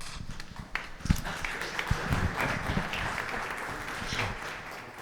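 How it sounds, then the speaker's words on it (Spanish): Audience applause greeting a speaker at a panel presentation, a dense, moderately loud wash of clapping that holds steady for several seconds across the whole stretch. "un aplauso para Pep"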